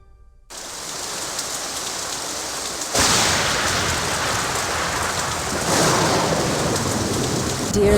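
Steady rain and rumbling thunder from a stormy San Francisco night in a Nancy Drew video game, starting after a brief silence, then surging louder in two swells as the downpour and thunder intensify, with no voices.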